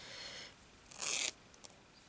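Scissors make one short, crisp snip through fabric during junk journal slow stitching, a quiet close cut followed by a faint tick, set against a soft background hiss.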